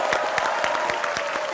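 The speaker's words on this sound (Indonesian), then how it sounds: "Tepuk tangan untuk kita semua" Audience applause at an evening televised political talk show, a brief burst of dense, loud clapping from a room full of people with faint crowd voices underneath.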